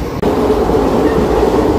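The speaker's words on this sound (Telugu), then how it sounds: "విశాఖపట్నం లింగంపల్లి జన్మభూమి ఎక్స్ప్రెస్ జస్ట్ అలా వెళ్ళిపోయింది" A Visakhapatnam–Lingampalli Janmabhoomi Express rushes past, a loud, steady roar of wheels and carriages filling the whole stretch after a brief dip at the start.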